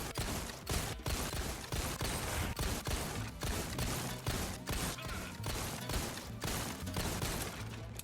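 Rapid video game gunfire at a shooting range, dense repeated shots in quick bursts filling the whole stretch, fairly quiet and with no talk.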